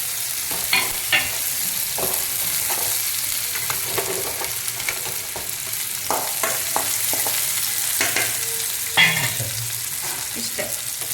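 Green chilies fry in a hot tempering for bisibelebath, a steady crackling sizzle of oil with intermittent stirring scrapes and clinks of a spoon against the pan, close and continuous, no voices.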